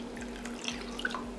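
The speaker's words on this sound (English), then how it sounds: "Add 1 more cup of hot water." Hot water poured into a bowl for a layered jello dessert, a soft continuous trickle and drip of liquid. It is quiet and close, with a low steady hum underneath and no talking.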